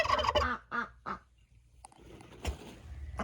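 A duck calling close by in a short burst of loud quacks, then quieter scattered calls after a pause.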